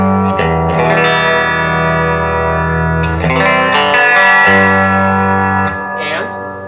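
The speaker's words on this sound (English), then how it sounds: "You do have reverb." A 1x12 guitar combo amplifier with 6V6 tubes plays sustained, distorted chords drenched in spring-style reverb, loud and continuous, with ringing tails between strums.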